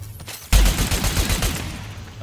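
Rapid automatic gunfire from the online shooter game Crucible starts abruptly and rattles on as a dense, loud burst of shots with no talking.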